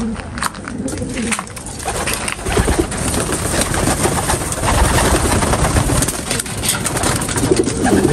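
Pigeons coo repeatedly in a loft amid a busy, noisy background, several birds calling close by with continuous rustling and clatter.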